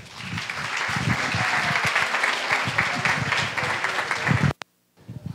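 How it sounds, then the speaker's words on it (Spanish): Audience welcomes a speaker at a talk with loud, sustained applause from many hands, individual claps audible in the mix, ending abruptly near the end before near silence. "Lo vamos a recibir con un grandísimo aplauso"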